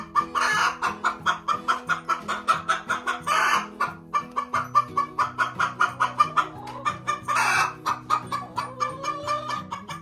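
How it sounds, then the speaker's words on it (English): An angry broody hen clucking rapidly and insistently, close and loud, with rhythmic repeated clucks and a couple of louder squawking bursts, among other chickens in a coop. "We have a super angry chicken."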